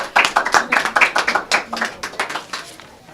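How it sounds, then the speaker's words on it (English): A small group claps distinctly, close by, on a local talk show as guests come on to discuss a springtime community clean-up. Separate claps are audible over about three seconds, tapering at the end. "please give me a round of applause here"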